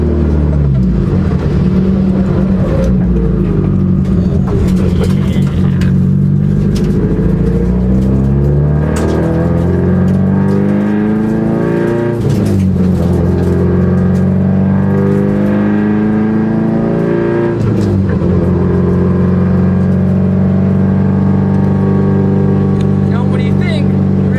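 A Subaru GC8 race car with a swapped-in STI engine drones steadily throughout, with rising and falling engine tones as it revs, and someone talks over it the whole time.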